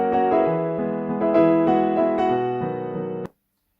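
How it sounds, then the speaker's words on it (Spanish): A piano sequence played at an untouched, even volume, a run of sustained notes and chords moving through a short phrase before cutting off abruptly, with no talking. "Es una secuencia de piano"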